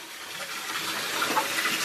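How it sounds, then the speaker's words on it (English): Bath tap running at full flow to fill a tub, a steady close gushing wash of water that holds constant throughout with no voices. "They don't fit in the sink, so I'm running the bath."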